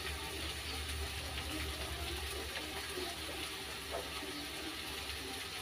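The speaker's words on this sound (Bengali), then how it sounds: "জল দিয়ে নেড়ে দেবো।" Water is poured into ground mustard and stirred, giving a continuous faint splashing and swirling liquid sound with light clinks, steady throughout and heard alone.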